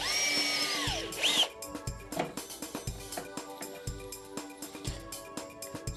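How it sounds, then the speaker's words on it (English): A power drill whirs in short, repeated bursts, starting and stopping in an uneven rhythm, heard close up, drilling a hole in a pan drawer unit. "Never put your hand behind the drill in case you push too hard"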